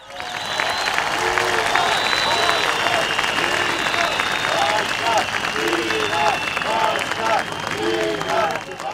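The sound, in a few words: rally crowd applause in solidarity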